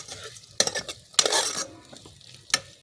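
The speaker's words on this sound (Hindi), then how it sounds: "इसको भी भून लेते हैं अब ज़रा।" Ingredients for a chana dal and bitter gourd dish being fried in ghee and stirred in a pan, with bursts of sizzling and spoon scrapes against the metal in irregular strokes, close and alone.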